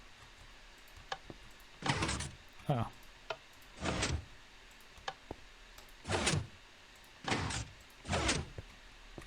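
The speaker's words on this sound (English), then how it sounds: "there is a combo here that will release a door" Sliding door mechanism in Minecraft opening after a combination is entered, heard as several short broadband whooshing bursts in a steady sequence, fairly loud and close, with a brief spoken exclamation between them.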